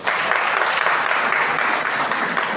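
An audience at a school Independence Day event claps in dense, sustained applause, loud and close, with no break across the short stretch.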